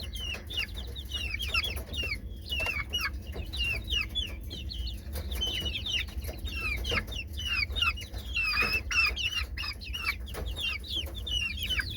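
Several hens, including a black one, cluck and call in quick, overlapping bursts at close range over a low steady background hum, with no talking.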